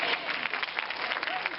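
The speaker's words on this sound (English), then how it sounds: "Why don't you clap your hand and say amen?" A congregation claps hands in brisk, dense applause at a Watch Night church service, close and continuous for the whole moment with no clear speech on top.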